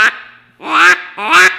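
Haydel's DR85 duck call blown in a mallard quack, three loud nasal quacks close by, the first clipped short and the next two drawn out, with no talking.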